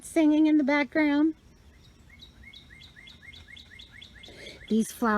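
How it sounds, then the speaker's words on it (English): Small birds sing in a garden, repeated high chirps and short tweets in a quick rhythm, heard between loud nearby speech at the start and end. "Can you hear the happy birds singing in the background?"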